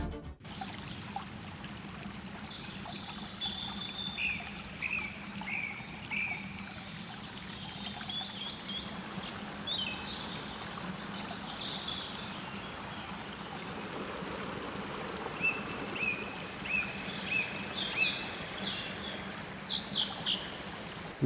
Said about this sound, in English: We woke to the sound of the Malabatse River flowing beside our camp